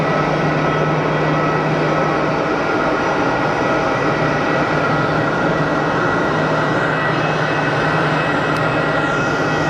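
EasyJet Europe airliner at Geneva Airport, a loud continuous engine roar held steady and close throughout.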